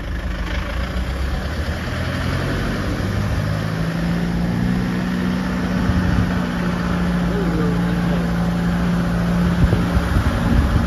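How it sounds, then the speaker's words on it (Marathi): Vehicles rolling along a mountain road in the Kedarnath to Chopta valley just after a landslide was cleared, with a steady low engine drone and idling rumble of cars and trucks throughout, mixed with background voices and outdoor noise. "चालल्यात गाड्या पुढं"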